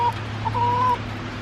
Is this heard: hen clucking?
yes